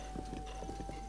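Horse hooves clip-clopping in a steady walking rhythm in the video game Zelda: Breath of the Wild, close and moderately loud, with a faint steady tone in the background.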